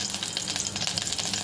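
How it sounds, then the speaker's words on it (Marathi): A spoonful of ghee sizzles and crackles steadily in a well-heated pan, a close, continuous frying hiss with no voices. "भांडं छान गरम झालेलं आहे, त्याच्यामध्ये आपण 1 चमचा तूप टाकून घ्यायचं आहे।"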